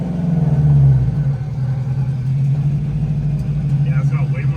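A Subaru WRX engine runs close by with a steady, throaty low drone. Its pitch dips slightly early on and then holds firm to the end.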